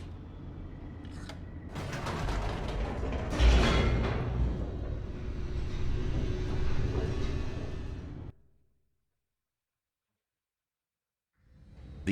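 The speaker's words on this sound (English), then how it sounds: "The elevator raced downward" Elevator racing downward in the video game The Stanley Parable, a loud rumbling mechanical descent with creaks and grinding that stops abruptly into silence before a faint return of sound at the end.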